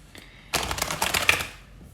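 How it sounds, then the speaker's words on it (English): A deck of tarot cards being shuffled by hand, a quick fluttering riffle of crisp papery flicks lasting about a second after a soft handling rustle. "I'm going to shuffle these."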